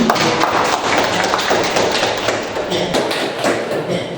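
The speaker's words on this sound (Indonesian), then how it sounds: "Oke, kasih aplaus dulu." Classroom applause during a high school chemistry lesson, a dense burst of clapping from many hands lasting a few seconds, loud and close.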